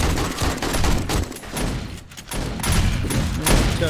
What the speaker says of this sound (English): It's a damn good thing the shotgun turret's working.